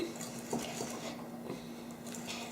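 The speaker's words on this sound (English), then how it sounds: "So I'm going to put the sugar in with the butter" Butter and cinnamon sugar being creamed by hand in a bowl for soul cakes, a steady soft scraping and clinking of utensil against the bowl with faint squishy stirring.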